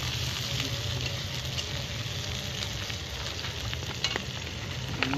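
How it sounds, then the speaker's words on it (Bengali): Green chilies stirred into onions frying in a kadai at an outdoor picnic: a steady, dense sizzle runs throughout, with a few sharp utensil scrapes and clicks near the end. "এটা আবার লঙ্কা মেশানো হচ্ছে"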